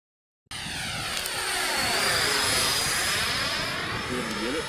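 A Yak 130 model jet flies on a windy morning with a loud, sustained turbine whine and roar that swells as it passes close by and then eases slightly, while a voice speaks briefly.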